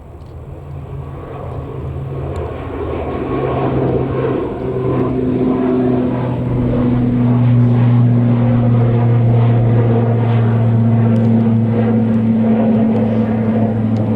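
A Boeing 777 starting its takeoff run at Manchester Airport, a deep steady jet rumble with rising engine tones that swells and holds loud and continuous throughout.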